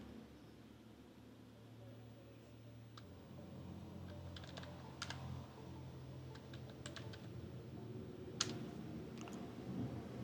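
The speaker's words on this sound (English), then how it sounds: "type the password which was just created in the terminal for the root account" Someone typing a root account password on a computer keyboard, soft quiet key taps in short irregular bursts over a low steady background hiss.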